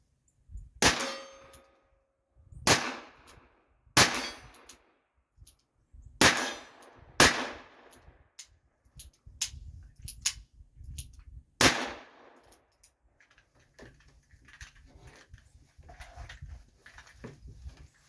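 Gunshots fired outdoors, a series of sharp loud reports at irregular intervals, several with a metallic ring, followed by quieter shuffling and movement.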